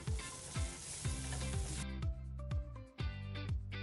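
Ingredients for Hyderabadi dum paneer sauté in a hot pan, a close, steady sizzle broken by regular scraping strokes of stirring.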